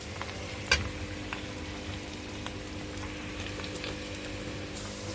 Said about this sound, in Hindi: अब मैं प्याज यहाँ पे हल्का हल्का ब्राउन कर रही हूँ।